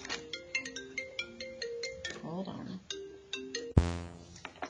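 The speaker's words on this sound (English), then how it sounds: "whoops, that is my phone" A mobile phone rings during a geometry lesson, a bright repeating electronic melody of quick tones, moderately loud, with a person speaking briefly over it.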